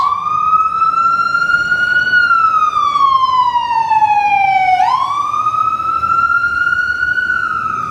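An ambulance siren wails steadily and loudly close by on a city street, its pitch sweeping slowly up and down as it passes, with no talking.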